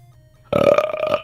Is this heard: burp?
yes